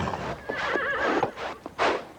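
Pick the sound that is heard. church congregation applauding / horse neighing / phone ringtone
horse neighing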